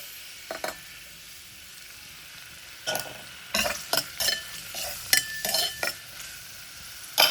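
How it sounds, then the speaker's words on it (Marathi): Onion and garlic go into hot oil in a pot for a Malvani-style prawn dish, with a quiet sizzle under a series of distinct spatula scrapes and clinks on the metal pot, close by and with no speech. "आता कांदो आणि या लसूण एकदाच घालते"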